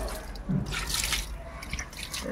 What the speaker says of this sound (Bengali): গাছে জল দিচ্ছি।